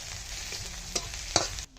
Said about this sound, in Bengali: এখন লঙ্কা আর রসুন বাটা দিয়ে দেবো ওটা কাঁচা লঙ্কা ফেরে দিয়েছি আর রসুন বাটা এটা একটু ভাজা ভাজা মতো করে